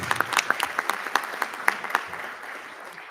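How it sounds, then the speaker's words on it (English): Applause from an audience at a school board meeting honoring a student of the month, scattered claps on top of a soft crowd murmur that thins and fades out toward the end. "Another round of applause for Sam."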